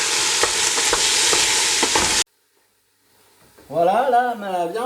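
Vegetables and a sprig of rosemary sweat in a pan alongside beef shank, giving a loud, close, steady sizzle that cuts off abruptly after about two seconds; silence follows, then a voice begins talking.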